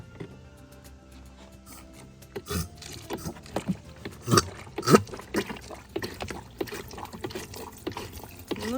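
Water is poured into a Thetford Campa Potti portable toilet indoors: a thin trickle builds into splashing, gurgling filling with uneven bursts, close and moderately loud.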